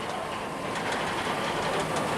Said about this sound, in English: Oh, that's Dragon Khan. That must be on 2 trains.